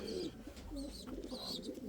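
Indian fantail pigeons coo in a breeding loft. Soft, low, rolling coos repeat close by with a few higher chirps among them, and no one speaks.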